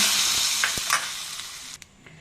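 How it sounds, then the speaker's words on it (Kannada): A sharp burst of sizzling as tempering in hot oil is poured into radish buttermilk curry, crackling loudly at first and then quickly fading with a few small pops. "ನೋಡಿ, ಒಗ್ಗರಣೆ ಹಾಕ್ತೀನಿ."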